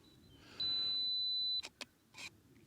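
A Fujifilm GFX50R sounds a single sustained high self-timer tone for about a second during a two-second countdown outdoors, then a couple of quick shutter clicks and a soft rustle follow against a quiet background.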